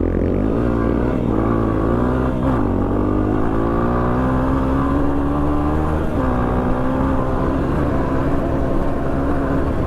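A dirt bike engine drones loudly and steadily up close in the sand of the Simpson Desert, its pitch climbing as the revs are pushed higher.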